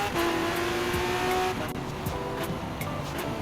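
A car downshifting in the racing video game Forza Horizon 4, a loud continuous engine drone with shifting revs and faint tire noise, no voices.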